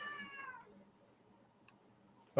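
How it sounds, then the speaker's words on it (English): A cat gives a drawn-out meow nearby, followed by quiet, then another meow starts abruptly at the end. "She's meowing."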